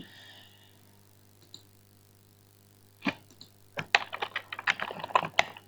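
Crisp clicks from a computer keyboard as a Dart program is written: after a quiet start, close, irregular bursts of keystrokes build up and grow denser toward the end. Nobody speaks.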